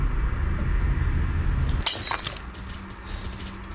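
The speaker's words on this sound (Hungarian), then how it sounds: "Leesett a tányér." A plate falls and shatters in the horror game Among the Sleep, one sudden sharp crash of breaking crockery with brief tinkling fragments after a low droning ambience.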